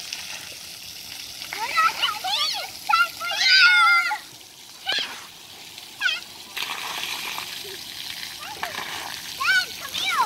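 Water from a splash pad fountain sprays and splatters nearby in bursts, with children's excited voices and chatter over it throughout.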